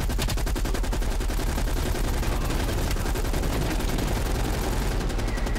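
Sustained automatic gunfire in the video game Black Ops Cold War, loud, dense and continuous throughout with rapid overlapping shots and no talk.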